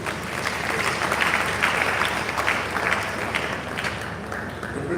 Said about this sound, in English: Please can we clap for Oyo State?